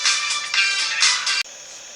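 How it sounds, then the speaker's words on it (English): A phone rings nearby with a steady bright electronic tone pulsing in short bursts, then cuts off abruptly and leaves a faint lingering hum. "Sorry, a phone went."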